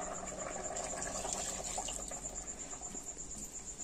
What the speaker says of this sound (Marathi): पाणी टाकलं.